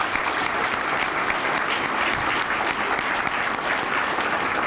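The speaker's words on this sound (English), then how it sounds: "can we give all our awardees an applause?" Awardees at a drug court 20th anniversary luncheon and awards ceremony get a sustained round of applause from the room, steady dense clapping that carries evenly for several seconds with no talk over it.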